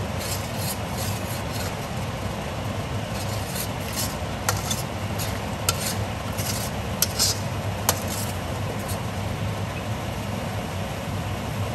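Onion and garlic paste frying on a high flame in a pan for restaurant-style butter chicken, giving a steady dense sizzle with a few faint sharp clicks, close and continuous with no speech.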